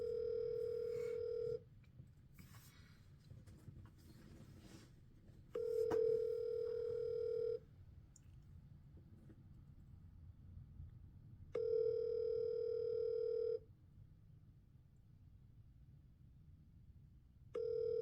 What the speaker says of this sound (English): Oh, why Gracie takes so long to answer?